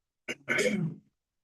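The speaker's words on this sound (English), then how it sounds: "Clear your throat once." One brief throat clearing, a short rasp followed by a longer gravelly rumble, close and alone in silence.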